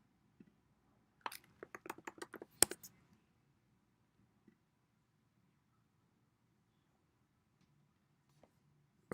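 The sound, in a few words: typing a search into Google on a computer keyboard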